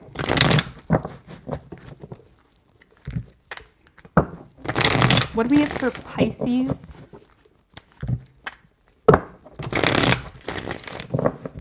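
Tarot cards are shuffled in quick riffling bursts, several times, with a person talking in between.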